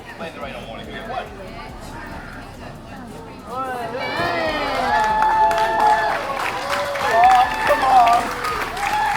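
A crowd at an outdoor event on a rainy day, cheering, whistling and clapping that swells after a quiet start and grows louder, with a nearby voice speaking briefly early on.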